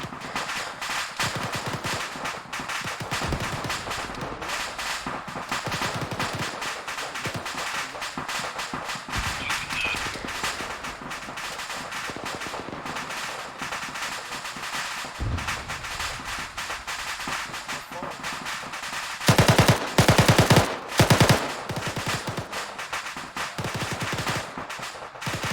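Rifle fire and 40mm grenade launcher shots in ArmA 3 keep crackling across a long military firefight. Bursts and single reports repeat throughout, with a louder, denser cluster of shots near the end.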